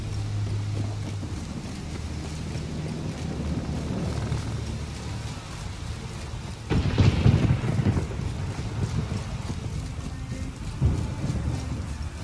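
A thunderstorm in The Witcher 3: Wild Hunt video game: steady rain hisses throughout while a deep thunder rumble rolls in loudly past the midpoint and a fainter boom follows near the end, with no talking.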